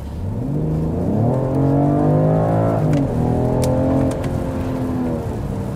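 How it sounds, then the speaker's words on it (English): A 2021 BMW 545e plug-in hybrid's six-cylinder engine, blended with synthetic engine sound, revs up and down with a smooth, layered drone, climbing in pitch, dipping briefly, then rising again, loud and close. "there's also a sound design for the engine sound"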